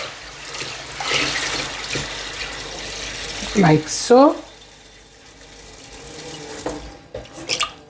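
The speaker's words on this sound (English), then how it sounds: "I'm going to add enough water." Tap water runs into a pot of beans in a home kitchen, a steady rushing splash that surges louder and gurgles briefly before stopping, with someone speaking over it.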